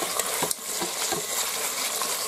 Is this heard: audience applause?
no